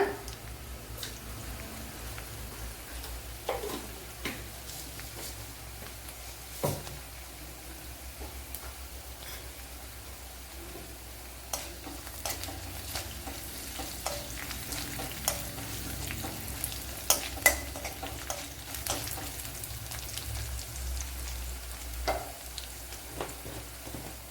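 A quarter teaspoon of fenugreek seeds frying in a pan, a soft continuous sizzle with scattered crackles and light stirring scrapes, fairly quiet and without talk.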